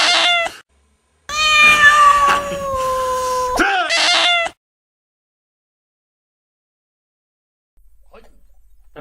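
A cat meows three times in quick succession, the middle call long and drawn out, all loud and close, followed by near silence with a faint rustle at the end.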